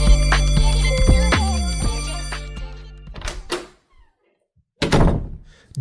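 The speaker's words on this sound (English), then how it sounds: "Door open, door closed, chair pulled up." In an office break room, a door opens and shuts and a chair is pulled up: two separate heavy thunks and scrapes, the first following a fading musical tone, the second after a short silence.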